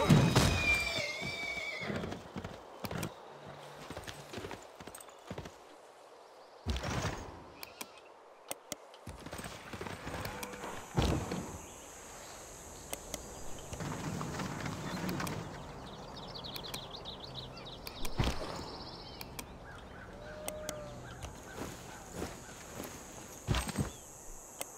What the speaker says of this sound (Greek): ας κάνουμε επίθεση με τα άλογα